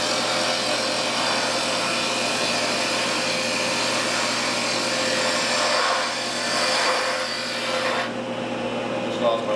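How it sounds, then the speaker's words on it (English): A bowl gouge cuts steadily into wood spinning on a lathe while a goblet is turned, giving a continuous loud rasping hiss over the motor's hum that eases off near the end. "I'm using a bowl gouge for this"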